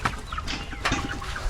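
Chickens cluck in short, irregular bursts close by, several birds overlapping with soft rustling in between.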